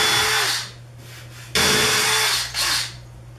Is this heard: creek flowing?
no